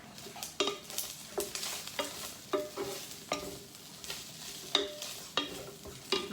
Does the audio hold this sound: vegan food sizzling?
yes